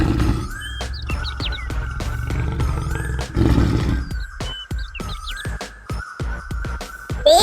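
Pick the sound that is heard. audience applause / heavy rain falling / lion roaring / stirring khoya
lion roaring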